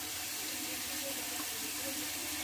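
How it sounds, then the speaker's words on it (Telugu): Water pours steadily into a pot of mutton tomato curry cooking over a high flame, a continuous broadband splashing rush lasting throughout, close and fairly loud with no talking. "ఇప్పుడు మనం వాటర్ పోద్దాం."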